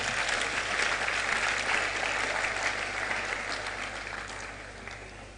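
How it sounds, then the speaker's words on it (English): Audience applause at a youth conference on entrepreneurship and national leadership, a sustained, even roar of many hands clapping that slowly tapers off, with no voices over it. "Clap for yourself."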